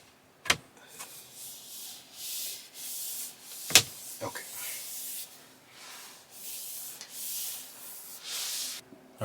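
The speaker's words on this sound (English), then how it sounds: "just wipe it down with the microfiber cloth" A microfiber cloth wiping down the center console of a Tesla Model Y/3, soft rubbing swishes in several passes with a couple of sharp clicks, close and quiet.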